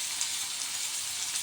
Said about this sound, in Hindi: इधर हमने जो प्याज को कद्दूकस किया है, वो प्याज को इस तरह से डाल करके फ्राई कर लेंगे